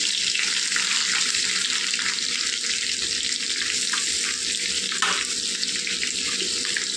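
Boiled cluster beans fry in a pan with curry leaves and dried chillies, giving a loud, steady, close sizzle that hisses without a break from start to finish.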